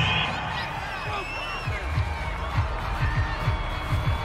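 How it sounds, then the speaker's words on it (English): A video-game home crowd in Madden 22 cheering a referee's call during a Las Vegas Raiders game against Miami, a steady stadium roar with rising whistles and whoops and rhythmic thumping underneath. "This home crowd, they're happy with that call."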